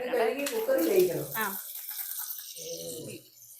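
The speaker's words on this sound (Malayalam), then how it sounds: "ഇത് കഴുകി ഒന്ന് രണ്ട് കഴുകി എടുക്കാം." Tap water runs and splashes as macaroni is rinsed in a kitchen, steady for the first second and a half, then a short quieter burst of washing; a voice is heard over the start.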